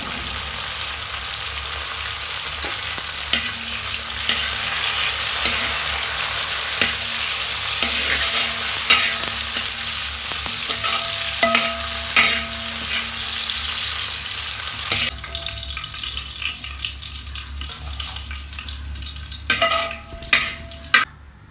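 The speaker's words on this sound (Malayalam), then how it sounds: "മുന്തിരിയും കുറച്ച് വേപ്പിലയും ചേർത്ത് വറുത്തെടുത്ത് കഴിഞ്ഞാൽ കോരി മാറ്റാം" Raisins and curry leaves frying in oil in a heavy pan for chicken biryani, a steady close sizzle with frequent stirring scrapes and clinks throughout, no talking.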